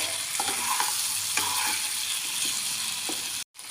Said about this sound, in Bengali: লবণটা ভালো করে মিশিয়ে নিচ্ছি আমি সব সবজির মধ্যে।